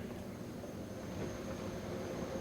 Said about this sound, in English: You will hear the separate air conditioner in here, separate air handler and unit for this.